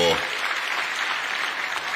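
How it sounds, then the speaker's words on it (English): Round of applause at a mining conference held at Mulungushi International Conference Centre, a dense wash of clapping from a large hall crowd that begins just as a voice finishes speaking. "another round of applause for"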